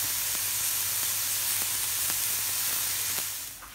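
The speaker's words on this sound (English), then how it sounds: "Once the pineapple are seared on both sides" Pineapple slices searing in a hot pan for sticky pineapple chicken wings give off a steady, even sizzle with faint pops, close and loud with no talk, before it tails off at the end.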